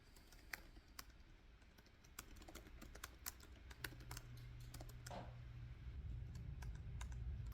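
Keys on a computer keyboard tap out a novel in quick, uneven clicks, close but quiet, over a soft background hum that swells toward the end.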